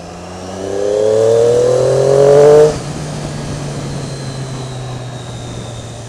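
Triumph Daytona 675 triple on its stock exhaust revs up loudly in a rising whine, then drops back abruptly to a steady lower engine hum with road noise.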